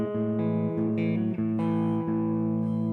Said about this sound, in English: and it's a clean guitar sound.